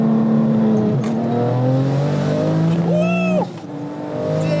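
A 1200 HP manual Porsche 911 Turbo AWD pulls hard from a rolling start in third gear, its engine note climbing steadily and loudly from inside the car, with a brief shift-like break near the end before the pitch rises again.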